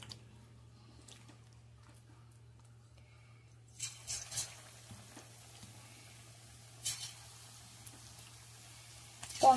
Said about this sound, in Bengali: এখন পকোড়াগুলো আস্তে আস্তে করে ভেজে নেব।